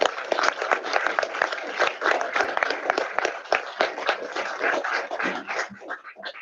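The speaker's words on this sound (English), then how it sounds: "I think a round of applause for all" Applause fills a council chamber at a full council meeting, many hands clapping steadily and fairly close for several seconds before thinning out at the end.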